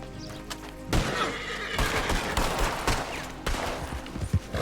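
A horse neighs and whinnies loudly in a Red Dead roleplay game, mixed with hoof clip-clops and bursts of gunfire, several close sharp calls over a busy, noisy scene.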